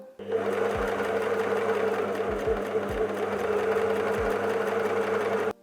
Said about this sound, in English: I'm just going to place the elastic under the overlock stitch, slightly stretching as I go.